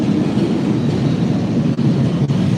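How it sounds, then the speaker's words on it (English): A metro train rolls into an underground station, a loud steady rumble of wheels and car noise filling the space with faint clatter throughout. "Here we have one metro coming."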